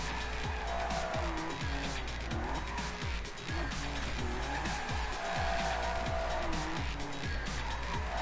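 A small car drifting nonstop around a track in the racing game Table Top Racing: loud, continuous tire squeals that rise and fall in repeated sweeps over a steady engine whine, with no voices.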